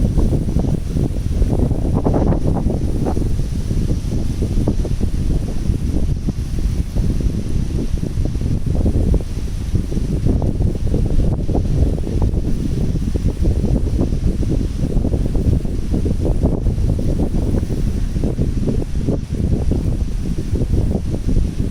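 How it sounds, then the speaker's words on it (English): Strong wind at a beach on a kite surfing day rumbles and buffets the microphone nonstop, a loud low roar that masks any surf or other sounds for the whole stretch. "Today is a really windy day at the beach."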